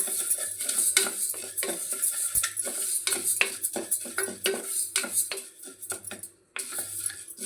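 A metal spoon repeatedly scrapes and clinks against a pan while moong dal is stirred and roasted, the strokes coming in a quick, steady rhythm with a faint sizzle underneath.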